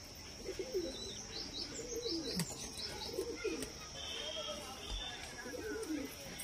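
A Laljira pigeon coos in low, soft repeated phrases, with chirps from other birds and a constant high hum around it, and someone talking at moderate volume over the sounds.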